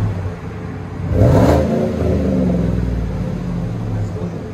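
A deep, rumbling 2017 GMC Sierra 5.3L V8 with a Flowmaster Super 40 exhaust revs up once and then settles into a loud, steady idle, around 95 decibels, with a throaty exhaust growl.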